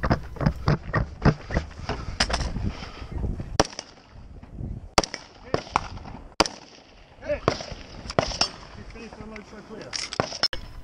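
Rifle shots ring out on steel targets at a Rio Salado shooting match, a quick run of sharp, loud cracks at first, then more widely spaced single shots, with voices faintly in the background.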